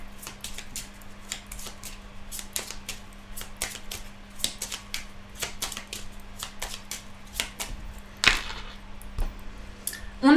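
A deck of Lenormand cards is cut and handled on a table, giving a string of sharp, dry card snaps and taps in irregular rhythm, close and fairly quiet over a steady low hum, with a louder shuffle near the end.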